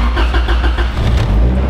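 A car engine cranks and catches on a cold morning, a short loud burst of starter and engine roar close to the microphone, heard alone.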